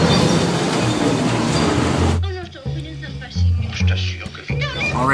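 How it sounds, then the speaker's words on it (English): Inside a passenger train in Italy near Venice, a dense rumbling ride noise fills the first two seconds, then the cabin quiets to a low hum under close talking voices. "All right, we're just on a train."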